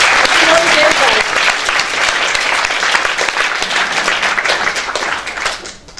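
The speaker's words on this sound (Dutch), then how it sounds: "Ik wil nogmaals een applaus voor Patty Bowen." An audience breaks into loud applause at a Dutch talk or stage event, dense clapping sustained for about six seconds before thinning at the end, with a voice briefly heard over it near the start.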